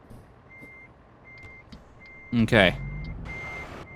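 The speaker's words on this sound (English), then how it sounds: "Trying to turn my truck around so I can get backed up to this thing." A truck in the American Truck Simulator game reverses with a steady, evenly spaced electronic beep; a short burst of air hiss and a brief spoken word from a man cut in near the middle.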